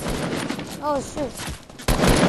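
Gunfire hitting the player in Fortnite: someone talks over scattered shots, then a dense, loud burst of rapid fire breaks in near the end.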